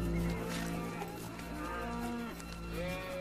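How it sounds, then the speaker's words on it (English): Cattle grazing on the high Andean paramo moo repeatedly over steady wind noise, with several long, overlapping low calls rising and falling at moderate distance. "The cattle are also being taken right up onto the high paramo."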